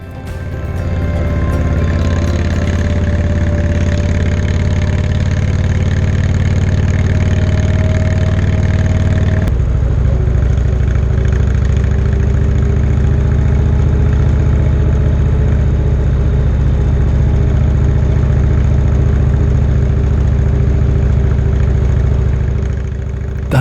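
Motorcycle engine riding through sunny Tuscan countryside near Montepulciano, a steady loud drone that holds constant, with a brief shift in tone partway through and no talk.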